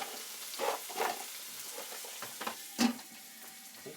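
Water boiling hard in a stir-fry pan, a soft steady sizzle broken by a few clinks and scrapes of a utensil against the pan, close but fairly quiet, with no talk.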